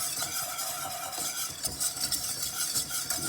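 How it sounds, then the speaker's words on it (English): White flour whisked in a pan to make bechamel sauce for lasagne, a quick, steady scraping and rattling of the whisk against the pan with a light sizzle beneath it. "And then you start to whisk it so that it doesn't make any lumps."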